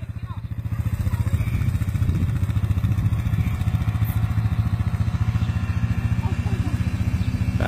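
A quad bike engine runs steadily nearby with a rapid, throbbing pulse and mechanical clatter, holding an even drone throughout while people talk over it.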